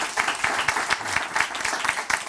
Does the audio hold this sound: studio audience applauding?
yes